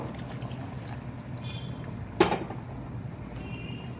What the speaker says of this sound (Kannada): ಕಾಯಿಸಿ ಇಟ್ಕೊಂಡಿರುವಂಥ ನೀರನ್ನ ಈ ಸಮಯದಲ್ಲಿ ಹಾಕ್ಕೊಳ್ಳೋಣ